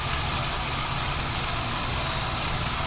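An Omega 8006 auger juicer grinds flax seeds with a steady, dense mechanical whir and grinding texture, continuous and close with no pauses.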